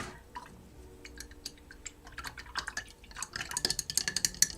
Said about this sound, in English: Let's wash out my paintbrush. And our first glass of water.